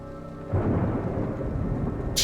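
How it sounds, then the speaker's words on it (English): A loud thunder strike from a dramatic TV show scene bursts in after a brief quiet lead-in, then rolls on as a heavy rumble with rain hissing underneath for about two seconds. "The timing of the thunder strike when he looked up."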